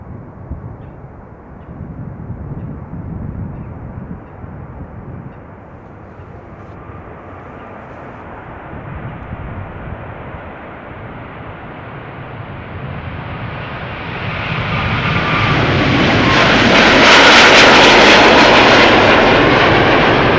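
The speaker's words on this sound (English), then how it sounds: "Delta A330neo to Minneapolis, lining up behind it." Delta Airbus A330neo at Schiphol, its jet engines rising from a low distant rumble to a loud, close, broadband roar with a bright whine toward the end, no talk.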